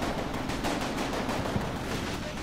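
Machine gun fire crackles in the Combat Mission wargame, a dense, continuous rattle of distant shots blending into a steady wash of battlefield noise.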